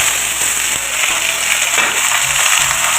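Freshly washed vegetables hit hot oil spiced with black cumin and dried red chilli, giving a steady, loud broadband sizzle throughout, close up, with faint clatter of stirring and no talk.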